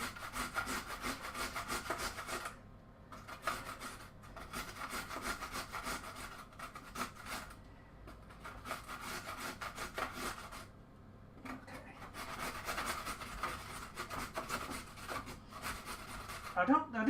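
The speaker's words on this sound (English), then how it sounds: "Man grates carrots." Carrots grated by hand on a grater, with repeated rhythmic rasping strokes in bursts separated by short pauses, close and moderately loud, with a voice speaking now and then.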